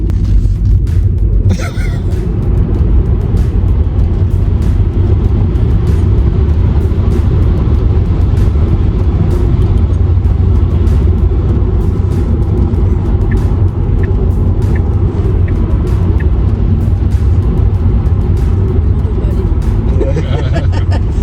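A Tesla electric car accelerates, heard from inside as a steady, loud low road rumble that holds throughout, with muffled voices in the cabin.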